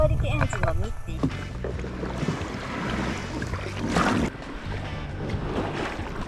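A small fishing boat with a 2-horsepower outboard engine runs off the coast of Minami-Izu, its steady motor hum mixing with wind and water splashing against the hull while people talk over it.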